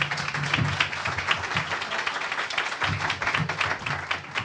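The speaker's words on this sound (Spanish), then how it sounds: "Un aplauso, por favor." An audience at a conference on Indigenous political participation claps steadily, a dense, even patter of many hands that carries on through the whole stretch.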